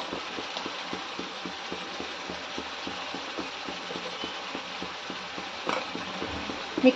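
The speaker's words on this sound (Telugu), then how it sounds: "టొమాటోలు కూడా పచ్చివాసన పోయేంత వరకు బాగా ఫ్రై చేసుకుందామండి" Tomatoes fry in a pan for chicken dum biryani, a steady close sizzle and crackle with faint scraping stir sounds running throughout, no voices.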